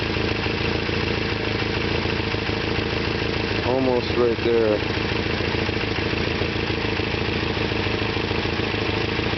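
A 2.6-liter Isuzu 4ZE1 engine idles steadily and loudly throughout while its ignition timing is set, with a brief voice speaking over the running motor midway.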